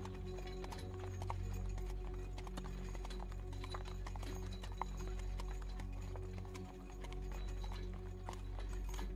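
A friendly horse clip-clops steadily on its hooves for several seconds, close and fairly loud, with an occasional whinny over a constant low outdoor hum.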